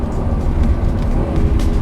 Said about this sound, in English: And that exhaust